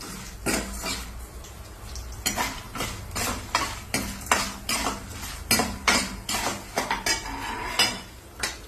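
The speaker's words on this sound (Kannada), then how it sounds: "ಈಗ ಕಡಲೆಕಾಯಿ ಬೀಜನ ಅದು ಸ್ವಲ್ಪ ಫ್ರೈ ಮಾಡ್ಕೋಬೇಕೀಗ" Peanuts and lentils being stirred and fried in a pan, a metal spoon scraping and clattering in quick rhythmic strokes over a soft sizzle, close and fairly loud.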